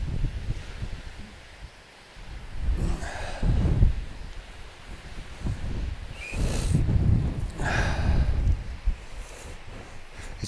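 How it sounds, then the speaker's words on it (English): Strong wind at a forest camp by the water in Northumberland, rising and falling in gusty surges with low, buffeting rumbles against the microphone. No talk is heard. "It's very windy."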